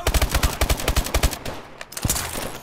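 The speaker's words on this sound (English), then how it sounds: "They're using MMGs. Stay clear." Medium machine gun fire in Call of Duty: Advanced Warfare, a loud rapid burst of evenly spaced shots for over a second, then a pause and a few more rounds.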